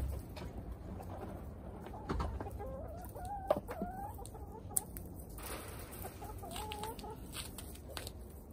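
Backyard hens cluck and murmur steadily, with a rooster-like call rising now and then, close and fairly quiet, while a person speaks briefly to them.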